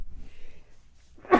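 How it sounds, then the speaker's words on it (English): A single sharp human sneeze bursts out near the end after a few quiet breaths, close and loud. "I'm gonna sneeze."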